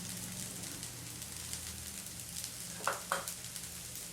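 Rice flour pieces and spices hiss and crackle in hot tempering oil with a steady, faint sizzle, broken by a couple of louder stirring scrapes near the end.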